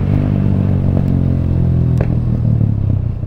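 A TVS Apache 160 2V motorcycle fitted with a full-system Akrapovic exhaust, dB killer removed, runs with a loud, rough low engine note and a couple of sharp pops during a short close-up pass.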